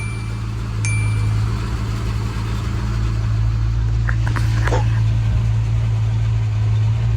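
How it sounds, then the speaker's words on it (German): The motor of an old Windy 23 FC boat idles with a steady, low, close rumble. Brief higher clicks and noises cut in partway through. "jetzt schmeißen wir einmal den Motor an"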